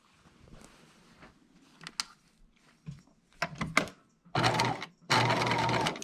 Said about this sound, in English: now we're going to stitch this upper edge around that dramatic curve